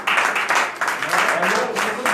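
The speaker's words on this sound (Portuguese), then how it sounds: "Aplaudirmos ao Senhor Jesus" Church congregation applauding in praise, a dense burst of clapping that pulses in loud waves, close and crowded, with voices mixed in among the hands.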